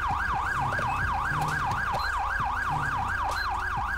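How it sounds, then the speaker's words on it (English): A wailing police siren in GTA 5 cycles rapidly up and down in a steady, fast rhythm, loud and continuous, with engine rumble underneath. "turn off the siren, bro"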